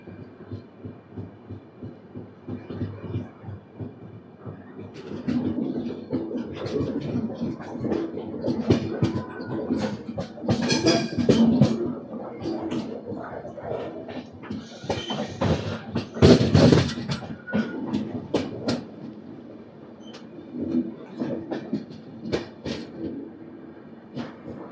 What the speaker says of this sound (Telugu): ఒక 2 మినిట్స్ తర్వాత అయితే మన ట్రైన్ అయితే స్టార్ట్ అయిపోయింది